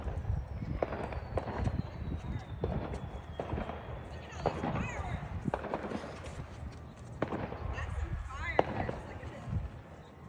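Illegal fireworks go off somewhere in the distance at night, faint scattered pops and crackles over a steady rumbling background, with people talking nearby.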